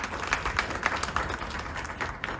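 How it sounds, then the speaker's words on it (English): An audience at a company anniversary gathering claps in a faint, scattered patter of applause that continues evenly for a couple of seconds. "Big round of applause for your own organization"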